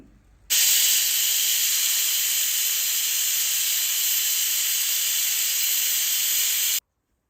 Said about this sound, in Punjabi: ਢੱਕਣ ਲਗਾ ਕੇ ਆਪਾਂ ਮੀਡੀਅਮ ਸੇਕ ਤੇ 5 ਸੀਟੀ ਲੱਗਣ ਤੱਕ ਇਸ ਨੂੰ ਪਕਾ ਲਵਾਂਗੇ